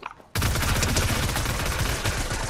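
Sustained burst of rapid, loud gunfire in Fortnite erupts suddenly after a brief quiet moment and continues densely without pause.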